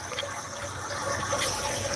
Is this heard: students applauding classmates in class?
no